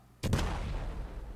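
A propane tank blows up in the Fireworks Mania video game: one sudden, loud boom followed by a long, heavy rumble that slowly fades, with no voices over it.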